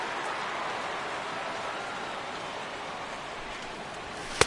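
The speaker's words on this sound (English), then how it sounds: "the rain continues to fall here" Rain falls steadily at a baseball stadium as an even, soft hiss of broadband patter that holds through the whole stretch, with one sharp tap near the end and no talk.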